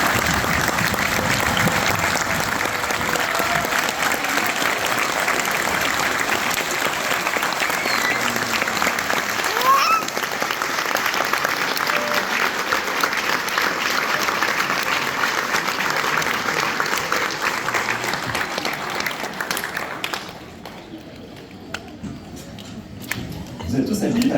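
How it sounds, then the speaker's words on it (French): Sustained applause from a large audience honouring the 2025 graduates at a Montreal graduation ceremony, dense steady clapping for about twenty seconds before it abruptly thins out near the end. "qu'on prenne le temps d'applaudir nos diplômés"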